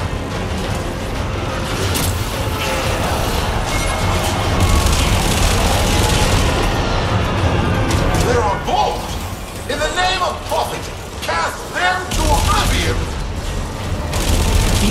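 A turret fires in the sci-fi shooter Warframe during a live gameplay demo, with repeated booming shots and mechanical clatter layered under almost continuous talk and busy game noise.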